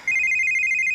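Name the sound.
mobile telephone ringing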